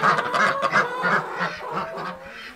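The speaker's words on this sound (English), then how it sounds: "There's a sheep, chicken and ducks." Farm fowl, ducks and chickens, call out in a run of loud, close quacks and honking squawks, several overlapping calls in quick succession with no talking.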